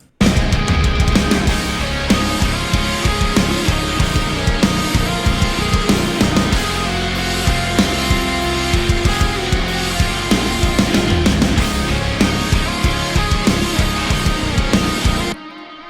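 Loud heavy metal second chorus with pounding drums, driving bass and distorted guitars playing steadily, then cutting off abruptly near the end.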